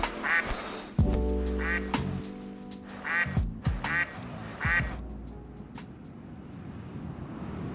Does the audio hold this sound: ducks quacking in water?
yes